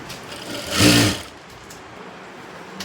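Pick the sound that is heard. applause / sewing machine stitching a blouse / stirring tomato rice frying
sewing machine stitching a blouse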